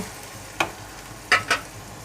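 Onions frying in oil in a pan give a low steady sizzle under a few sharp stirring clatters, one short scrape followed by two quick knocks close by, with no talking.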